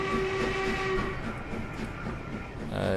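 Steam locomotive Duchess of Hamilton pulling away on the Great Central Railway in Train Simulator, a steady rumbling rail roll with a sustained whistle-like tone early on, loud and continuous with no talk.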